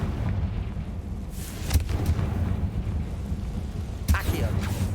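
Spell blasts from the Confringo fire spell in Hogwarts Legacy, two sharp bursts about two seconds apart over a steady low rumbling game ambience, fairly loud and close.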